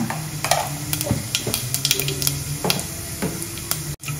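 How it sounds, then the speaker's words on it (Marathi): Mustard seeds and cumin crackle and pop in hot oil in a pan for a Maharashtrian val bean bhaji, a close, steady sizzle sprinkled with sharp little bursts. "तर आता तेल गरम झालेलं आहे, मी थोडीशी याच्यामध्ये मोहरी टाकते आणि थोडंसं जिरं टाकते"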